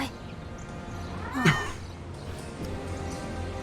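A single short cat meow in the video game 13 Sentinels: Aegis Rim, rising sharply out of a quiet game backdrop about halfway through.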